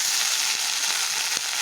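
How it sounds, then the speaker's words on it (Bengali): Greens of red amaranth meet hot oil in a frying pan, giving a steady, loud, close sizzle with brief crackling bursts throughout, no voices. "এগুলো বেশ ভাজা হয়ে গেছে, এবার আমি এখানে শাকগুলো ছাড়ব।"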